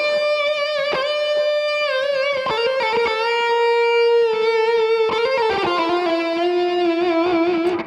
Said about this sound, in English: I'm bending whole step, bending half steps, getting these nuances in there. I'm playing some fast legato